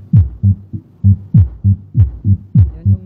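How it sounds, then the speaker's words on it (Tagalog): A subwoofer driven by a sub amplifier through a crossover thumps out a steady, loud bass pattern, with deep rhythmic pulses of two or three hits repeating roughly every half second, and nobody talking. "Yan yung tunog ng ating sub mga boss."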